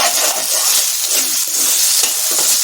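Okra and potatoes frying together in oil in a pan, a steady close sizzle with bubbling crackle and light stirring scrapes throughout, no talking.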